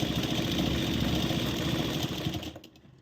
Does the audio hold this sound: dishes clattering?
no